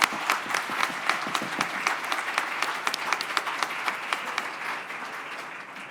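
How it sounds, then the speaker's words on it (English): Audience applauding a graduating honors college cohort at a recognition ceremony, loud sustained clapping from a large crowd with sharp individual claps standing out, slowly fading toward the end. "So that deserves a round of applause for all of you."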